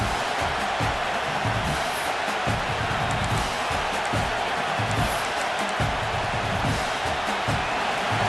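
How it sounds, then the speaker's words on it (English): A packed stadium crowd at a Northwestern vs Michigan college football game roars steadily and loudly, a dense, continuous wash of cheering with no breaks. "This crowd, full throat, spreading the eardrums and letting them know it's going to be a long day"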